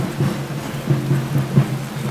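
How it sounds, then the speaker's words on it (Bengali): Heavy torrential rain pours at the riverside ghat during the Jagaddhatri idol immersion at Krishnanagar Rajbari, a dense steady hiss with a low droning hum beneath it and no voices. "মুষলধারে বৃষ্টি শুরু হয়ে গেছে"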